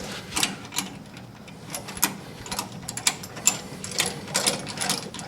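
A ratchet mechanism is cranked during work on an old towed car: a string of quick, light metallic clicks in uneven bursts, close by and clear, with no voices.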